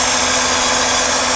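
Engine of a Mercedes R129 300SL with a vacuum leak, running steadily during a leak test: a loud, close, continuous mechanical drone with a constant hum and hiss and no break.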